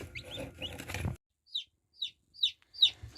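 Newly hatched chicks in a brooder box give soft muffled rustling, then four clear, high, evenly spaced peeps close by in otherwise quiet surroundings.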